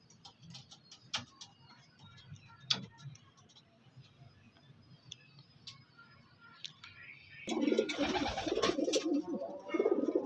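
Pigeons of the Andhra breed, a good male and female pair, coo softly amid light ticking and clicking sounds, before a louder, denser burst of bird noise swells up near the end.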